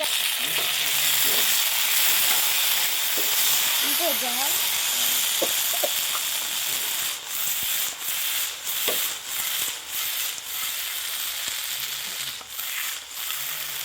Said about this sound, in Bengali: রসুনটা হালকা একটু লালচে কালার হয়ে এলেই এখন ভেজে নেওয়া চিকেনগুলো দিয়ে দিচ্ছি